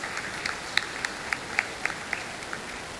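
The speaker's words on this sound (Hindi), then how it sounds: "जोरदार तालियों से उनका स्वागत कीजिए" Sparse, scattered claps from an event audience in Dombivli welcoming an honoree, Satyanarayan Chitlange; a few distinct hand claps ring out over a steady room hiss, moderately distant and fairly faint, with no one speaking.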